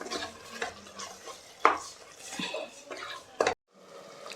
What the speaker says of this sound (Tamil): இப்போ நம்ம சேர்த்த உப்பு கொத்தமல்லி இது ரெண்டுமே ஒரு ஒரு நிமிஷம் வதக்கிக்கலாம்